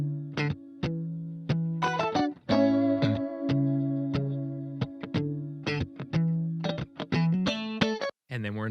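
A guitarist plays a tasty electric guitar lick with a harmony line, heard as crisp, separated picked notes and short double-stops in a bouncy, syncopated rhythm, clean and fairly close, with brief gaps between phrases.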